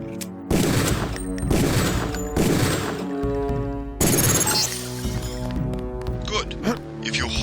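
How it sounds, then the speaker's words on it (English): Sharp bursts of pistol fire shattering a training target in Deus Ex (2000), loud clustered impacts with crashing debris, separated by short gaps and followed by quieter rattling. "Release the first target and take a few shots with one of the pistols until it is destroyed."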